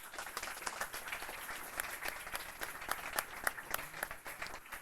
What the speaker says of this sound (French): Merci Niki, on peut applaudir s'il vous plaît